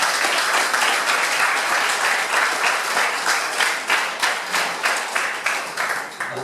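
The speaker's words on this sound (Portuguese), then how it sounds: "Posso ouvir uma salva de palmas para Jesus?" Church congregation applauding Jesus, a loud, dense burst of many hands clapping continuously, gradually falling into a rhythmic unison beat toward the end.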